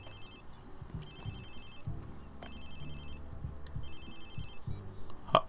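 A phone rings in the video game Watch Dogs 2, three repeated bursts of electronic ringtone at an even pace over a low background score.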